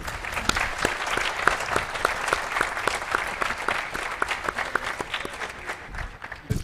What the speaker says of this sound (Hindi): मुजीब साहब के लिए एक भी ताली नहीं बजा रहे आप लोग।